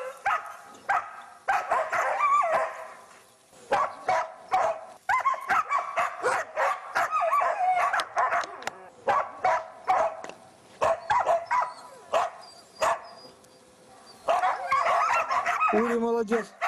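Hunting dog barking at a sable in the taiga: repeated sharp, excited barks and yips in uneven bursts, fairly close and loud, with brief pauses and a whimper near the end, and a voice speaking among them.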